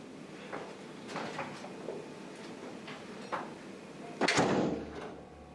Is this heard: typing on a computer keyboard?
no